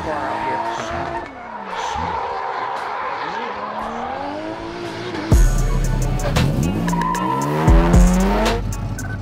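An electric-powered Nissan 350Z drift car slides through a competition drift event, its tires squealing in long, loud wavering howls that intensify near the end, with a commentator talking over the action.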